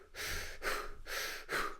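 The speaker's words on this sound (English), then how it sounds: "you're going to be breathing like that throughout the entire range of motion" Short, fast breaths during an exercise demonstration, four quick breathy bursts in a steady rhythm, close and fairly soft with no words spoken.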